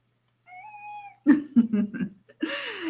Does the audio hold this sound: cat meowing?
yes